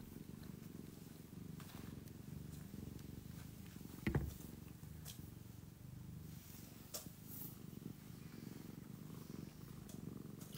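A cat purrs steadily and softly close by, a low continuous rumble with a brief louder bump midway and faint rustles.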